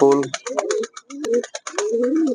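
Mukhi pigeons coo close by in a string of throaty, wavering calls with short gaps, loud and near.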